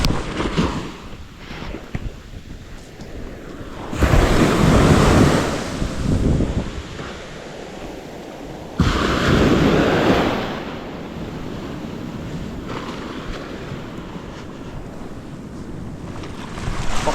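Waves surge and wash in bursts over strong wind buffeting the microphone, loud and close, with a rushing roar that rises and falls.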